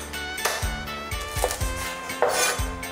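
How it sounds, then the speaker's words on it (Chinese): Knife chopping fatty pork on a chopping board in a home kitchen, a series of dull thuds spaced irregularly with some clinking of utensils, close and moderately loud, no talking. "再来切点猪肉"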